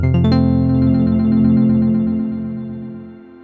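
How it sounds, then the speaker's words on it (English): A sustained tone from a TEO-5 synthesizer with its mod-wheel delay effect, a sharp attack and a quick series of repeating echoes that fade and smear into a long, loud, decaying tail. "on the mod wheel we have a crazy delay,"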